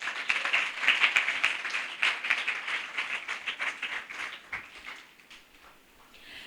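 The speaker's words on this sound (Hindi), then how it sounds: "आए जोरदार खुदा के जलाल के लिए तालियां बजाएं।" A church congregation claps at a worship gathering, brisk dense applause that builds, then thins and fades toward the end, with hardly any voices.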